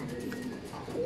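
Racing pigeons at an open loft cooing softly and close by, a steady low murmur of birds over a short moment with no talk.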